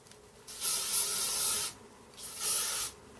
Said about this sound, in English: Obviously spray it with some hairspray,